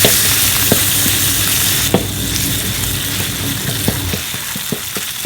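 Steady oil sizzle in a hot pan with a spatula scraping and tapping at irregular intervals as fish is stir-fried, close and fairly loud.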